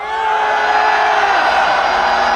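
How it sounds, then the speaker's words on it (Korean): Teenagers in a political rally crowd in Korea shout together on command, a loud, sustained collective roar that swells quickly and holds steady. "10대들 전방 함성!"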